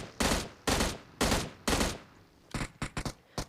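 Four loud, evenly spaced gunshots ring out in the PUBG Mobile game, then a quick burst of several sharper shots follows, all close and with no talking.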